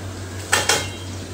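A knife knocking against a cooking pan while stirring ingredients for ayam asam, two quick metallic clinks close together over a low steady hum, no talking.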